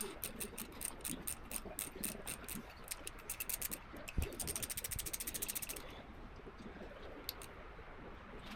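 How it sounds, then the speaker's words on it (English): A ratchet tightens a bolt on a Can-Am Maverick R, quiet rapid clicking in bursts, one brief knock midway, then a faster run of clicks before fading to sparse ticks. "Use a ratchet so you can feel it."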